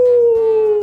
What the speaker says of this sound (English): There's nothing funnier than a singing dog.